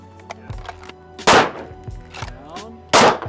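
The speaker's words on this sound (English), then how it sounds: "pull the trigger and fire." Handgun shots ring out at a shooting range in a drill, several sharp, loud cracks spaced irregularly, with a pair of especially heavy blasts near the start and the end.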